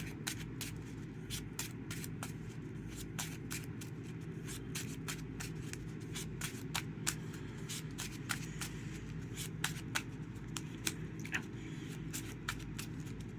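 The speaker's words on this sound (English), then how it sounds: "And now we shuffle." Playing cards shuffled over and over in quick, rhythmic riffles and snaps, close up, over a low steady background hum.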